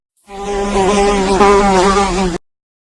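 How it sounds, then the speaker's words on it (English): Insect buzzing from flies near mud, a dense, wavering drone rising in at once and holding steady for about two seconds before stopping abruptly, loud and close with no other sounds. "Many flies are buzzing, then landing on the mud."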